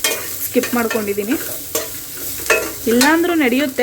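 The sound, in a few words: onions frying in a pan for mushroom gravy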